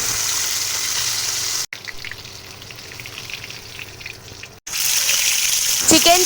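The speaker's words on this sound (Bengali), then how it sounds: "চিকেনটা ভাজা হতে থাক" Marinated chicken pieces frying in hot oil for a restaurant-style biryani, giving a loud, steady sizzling hiss that drops briefly to a softer crackle before surging back. A voice talks at the very end.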